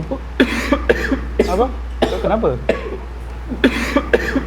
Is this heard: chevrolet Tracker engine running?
no